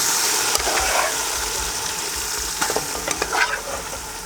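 Cooked tapioca (kappa) and biriyani are mixed together in a pot, a soft continuous hiss giving way to a burst of scraping and stirring knocks near the end, close by and with no speech.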